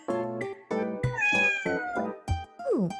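A cat meows several times in a row, a few drawn-out, rising and falling cries close by with short pauses between them, with no talking.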